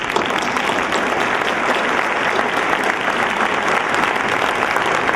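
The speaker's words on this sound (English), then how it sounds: "One last round of applause for them." A school memorial celebration audience gives a chorus a final round of applause, a loud, dense, steady clapping throughout with no talking.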